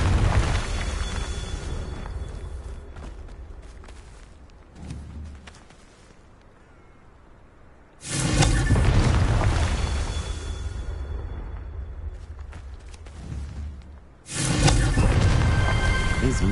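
Three heavy, booming blasts from the Confringo fire spell in Hogwarts Legacy, each a loud sudden burst that rumbles and slowly decays, separated by quieter ambient stretches.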